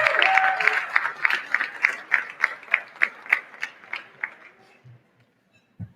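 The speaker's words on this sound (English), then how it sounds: "A round of applause" Applause at an evening board-chair introduction for a Let's Win event, heard as rhythmic, fairly loud claps that thin into evenly spaced single claps and fade out to near silence at the end.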